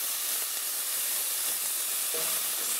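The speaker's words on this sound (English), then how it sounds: "half a teaspoon of garlic paste. Saute it all together," Garlic paste with ginger and onion sautés in a hot pan with a loud, continuous sizzle and hiss that stays up close and steady, with faint stirring scrapes.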